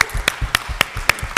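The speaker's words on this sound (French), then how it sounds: "Applaudissez." Audience applause at a youth skills forum, a short sparse run of distinct claps from a small group, evenly spaced and fairly close.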